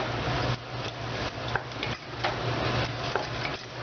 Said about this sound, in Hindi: गोभी डालकर हम इसको अच्छी तरह से भूनेंगे ताकि इसमें अच्छी तरह से मिक्स हो जाए।